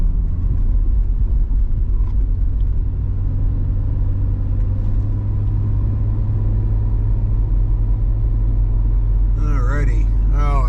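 A car drives along a road near Mount Rainier, its engine rumble and tyre noise steady and close throughout, with occasional voices over it and a brief bird-like chirping near the end.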